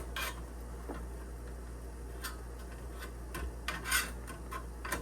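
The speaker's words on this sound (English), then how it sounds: "I'm just gonna rub this into the pan with the tissue and get the sides so that way it's nice and greased" A tissue rubs shortening into a baking pan, giving soft scraping and wiping strokes with occasional light taps and clicks against the metal, under a low steady background hum.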